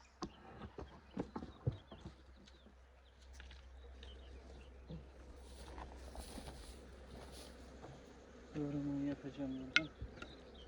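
Flies buzz around dogs at evening feeding time, a faint intermittent insect drone with scattered soft knocks and rustles, and a brief louder buzzing swell near the end.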